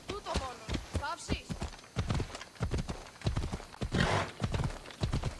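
Horse hooves clop in a rapid galloping rhythm in the video game Assassin's Creed Odyssey, loud and close, with a brief whinny near the start and someone talking over the hoofbeats.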